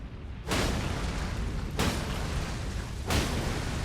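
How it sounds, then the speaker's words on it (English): A boss in the Elden Ring Shadow of the Erdtree DLC sets off a volcano explosion attack, heard as three loud, broad booming blasts spaced evenly about a second and a half apart, each rolling into a sustained roar. "now he's doing his big volcano explosion"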